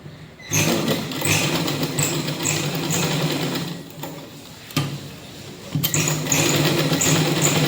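An electric sewing machine runs steadily while stitching a blouse, a continuous close whir with a couple of short pauses and restarts.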